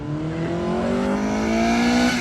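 A Honda Prelude with an aftermarket exhaust revs up, a loud continuous engine drone whose pitch climbs gradually across the clip, heard alone without talk.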